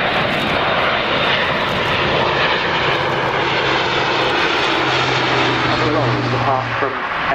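An Airbus A400M military transport plane flies a display at RIAT 2014. Its propeller engines make a loud, steady, close roar that fills the whole stretch with a constant heavy drone.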